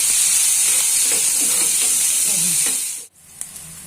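Sliced onion and green chillies fry in a hot pan for a methi gravy, giving a loud, steady sizzle with stirring scrapes that cuts off abruptly near the end, followed by a faint clink.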